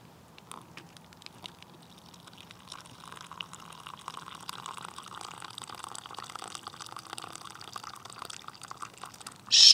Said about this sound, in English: Pour my coffee.